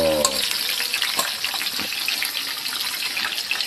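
Food crackles and sizzles in hot oil, a steady spattering hiss that continues throughout, with a brief faint voice at the start.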